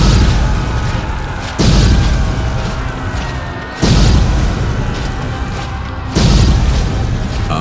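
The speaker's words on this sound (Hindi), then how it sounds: "युद्ध के प्रारंभ में लोदी की सेना ने तोपों से हमला किया।" Repeated cannon fire on a battlefield, with three heavy booming blasts spaced about two seconds apart, each landing loud and then fading into a rumbling tail, and no talking.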